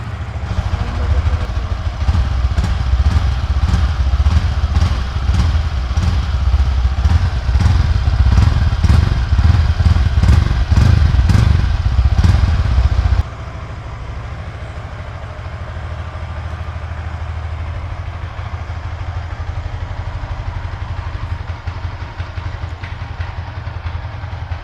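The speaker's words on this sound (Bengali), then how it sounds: "তো তোমাদের একটু এক্সজস্ট সাউন্ড দেখিয়ে দিই। এটা হচ্ছে স্টার্ট দেবো।" A Yamaha R15M V4 motorcycle (2023 BS6 MotoGP Edition) starts and idles with a loud, steady exhaust burble and rhythmic pulses for about thirteen seconds, then the engine is switched off, leaving quieter background hum.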